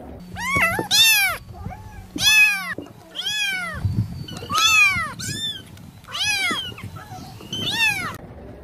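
A cat meows repeatedly in a rising-and-falling, baby-like wail, with seven loud, close cries spaced about a second apart over soft background noise.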